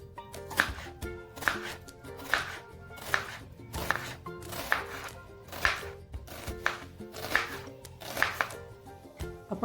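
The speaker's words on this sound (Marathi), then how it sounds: "आपण वाटण्यासाठी चार ते पाच कांदे घेतलेले आहेत ते आता उभे चिरून घेणार आहोत" A knife chops onions steadily on a board, a regular rhythm of sharp, close strikes repeating about every second, with no talking.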